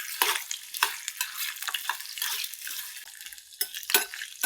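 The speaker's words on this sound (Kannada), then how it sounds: "ಇವಾಗ ಫ್ರೆಂಚ್ ಫ್ರೈಸ್ ಥರ ಕಟ್ ಮಾಡ್ಕೊಂಡಿರೋವಂಥ ಆಲೂಗೆಡ್ಡೆನ ಹಾಕ್ಕೊಳ್ತಾ ಇದ್ದೀನಿ. ಇದು ಬ್ರೌನ್ ಕಲರ್ ಬರೋ ತನಕ ಹುರ್ಕೋತಾ ಇರಬೇಕು ಈ ಥರ." Potatoes cut like French fries frying in a pan until browned, with a bright, continuous crackling sizzle and repeated scraping stirs up close, alone without voices.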